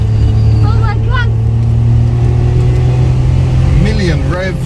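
A Daihatsu Sirion's engine strains loudly up a steep hill after an automatic kick-down, a steady droning rev heard from inside the car, with voices talking over it.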